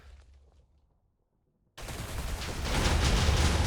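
A barrage attack in the Minecraft Jujutsu Craft mod lands after a brief silence, an abrupt loud onset of rapid, dense impacts that keep building in intensity to the end.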